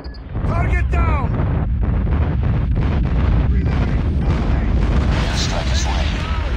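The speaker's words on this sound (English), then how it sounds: "Friendly airstrike incoming." Airstrike explosions in a video game pound one after another as a dense, continuous barrage of loud booms and rumbling, with whistling tones and in-game voice callouts layered over it.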